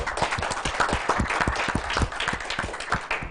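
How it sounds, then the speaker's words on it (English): Applause at the close of an academic seminar, a brisk patter of many hands clapping evenly for a few seconds with no voices over it. "Applause again for us all for this seminar"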